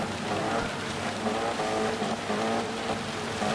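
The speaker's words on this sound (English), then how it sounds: "Revs are up, long hold there, and we're away." Race cars in a racing video game rev hard and pull away from the start, a steady loud engine drone with rising harmonic tones running throughout, under a commentator's talk.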